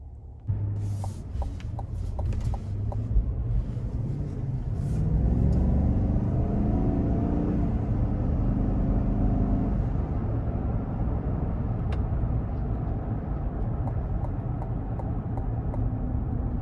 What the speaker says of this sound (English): we're gonna go ahead and take this 2022 GMC Yukon Denali out on the road for a quick test drive